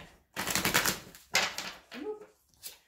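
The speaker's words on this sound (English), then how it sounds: "3 shuffles and I'll pull your theme of the month card." Tarot cards are shuffled in three quick riffled bursts, crisp papery fluttering with short pauses between, close and fairly quiet.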